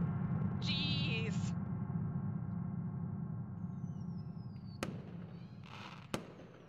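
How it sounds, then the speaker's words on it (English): Fireworks in the video game Angels with Scaly Wings: a low continuous rumble of distant bursts, a whistling rise, then two sharp cracks near the end. "The fireworks are here."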